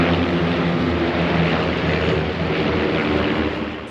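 Old propeller warbirds, such as P-38s, run their piston engines at the Oshkosh airshow, giving a loud, steady droning roar with a throbbing low hum that stays close and fades slightly at the end.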